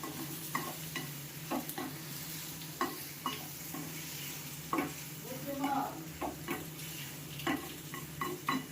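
Onions and tomatoes sautéing with salt in a pan for curry leaf chutney, a soft continuous sizzle broken by regular scraping stirs and light utensil taps, close and moderately quiet with no talk.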